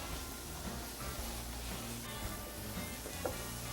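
Sausage fries in a pan with vegetables for a southwestern cornbread stuffing, giving a steady, dense sizzle with faint scraping as it is stirred and broken up.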